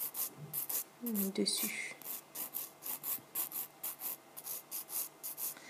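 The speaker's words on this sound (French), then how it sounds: "mon lime banane et je vais limer tout doucement" A banana-shaped nail file gently files nails while semi-permanent polish is removed, giving soft, close, rhythmic rasping strokes repeated steadily, with a brief murmured word near the start.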